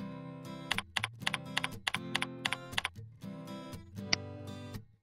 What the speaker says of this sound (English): click the text field and type in the password config OS.